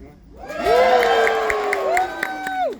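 An excited game-show audience on a cruise ship cheers and whoops together, voices rising in loud sustained shouts with scattered claps over nearly three seconds.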